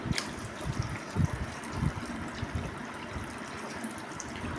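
Sugar syrup pouring into a cornflour mixture for Bombay halwa gives a soft, continuous liquid trickle and splash, fairly faint and close, with a few louder gulps as it lands.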